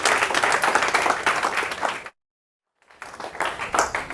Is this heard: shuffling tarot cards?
no